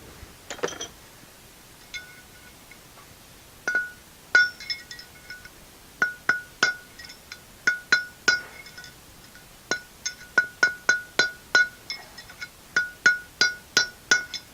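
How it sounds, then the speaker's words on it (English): Sharp metallic taps ring out in irregular bursts, then settle into a quick steady series of hammer strikes on a punch driving a wheel bearing race out of an electric trailer brake drum, close and clear with no talking. "tap it with the hammer and work my way around until it drives the race down"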